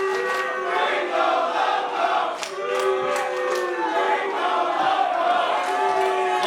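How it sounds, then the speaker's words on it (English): Wrestling crowd at an indoor independent show, mixed chanting and yelling with some voices split, sustained loud and close throughout with overlapping shouts and rising cheers. "Oh, it seems the crowd's a little split on Gringo Loco here."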